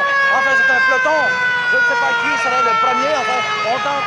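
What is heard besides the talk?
siren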